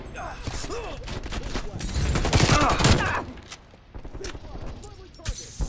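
Rapid automatic gunfire from teammates in a Call of Duty Cold War match, bursts of shots close by with players talking over them.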